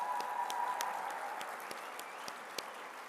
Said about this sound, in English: let's do a louder round of applause for that